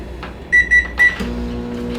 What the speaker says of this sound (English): Stick it back in the microwave